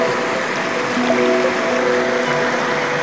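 The Pemali River flowing near Paguyangan, a steady, fairly loud broadband rush of running water that holds evenly throughout with no voices over it.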